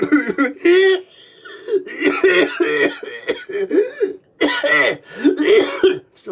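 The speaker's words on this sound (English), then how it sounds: "I'm coughing." A person coughs and clears their throat in several close, loud, rough bursts, mixed with voiced sounds that resemble laughter.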